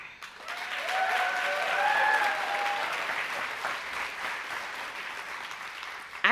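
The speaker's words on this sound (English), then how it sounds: "I appreciate the applause." A gala audience at a mentoring awards event applauds in a steady, sustained wash of clapping, with a few faint voices mixed in.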